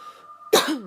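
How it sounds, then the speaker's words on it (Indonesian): A single sharp, loud cough bursts out after a moment of quiet humming tone, trailing off with a short vocal groan. "Aduh, batuk aku."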